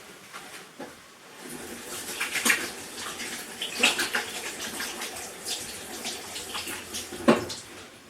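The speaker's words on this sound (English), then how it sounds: "I'm just gonna wash my hands." A kitchen tap runs while hands are washed at the sink, with soft splashing and trickling water, faint and close, broken by a few sharper splashes and small clinks.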